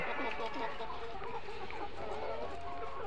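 Layer hens, 132 days old, clucking steadily on a poultry farm, a dense overlapping chorus of nearby birds with occasional louder calls and faint talk mixed in.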